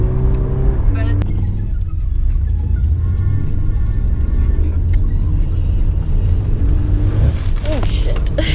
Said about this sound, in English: it has the power off the line. It can skid a wee bit.